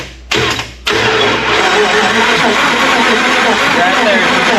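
A Jeep engine is running badly with a saturated, dirty filter. It cranks in two short bursts, then catches into a loud, rough, steady run that stays close up. No one speaks.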